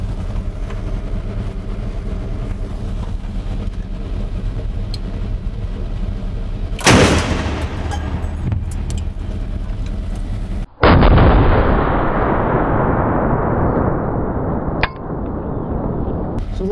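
A tank's main gun fires at close range, a sharp loud blast followed a few seconds later by a heavy roaring impact as the shell blows out a building wall, debris rumbling and hissing afterward over steady engine noise.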